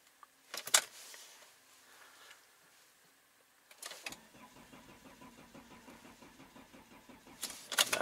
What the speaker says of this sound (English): now it won't start.